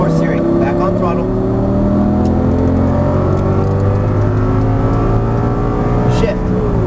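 Audi R8 accelerates hard on the Exotic Racing track in Las Vegas, its engine note climbing steadily and loud throughout, heard from inside the car.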